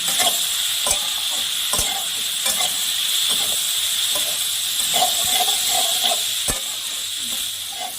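Potato pieces dusted with turmeric fry in a pan with a steady, close sizzle, broken by a few soft clicks from stirring, with no voices.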